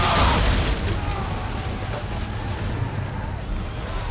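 Cannon fire at a ship in an Assassin's Creed naval battle, a heavy boom at the start followed by a sustained rumbling roar that slowly fades, loud and close.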